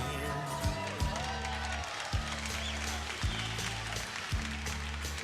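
A large live crowd claps and cheers continuously, with a few louder bursts of applause rising at intervals over the steady roar.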